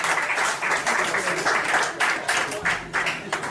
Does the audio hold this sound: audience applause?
yes